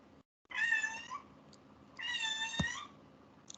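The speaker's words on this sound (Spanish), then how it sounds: "ahí está mi gato llorando que quiere salir del cuarto." A domestic cat shut in a room meows twice to be let out, two drawn-out plaintive cries a second apart, moderately close in a quiet indoor space, with a brief faint tap between them.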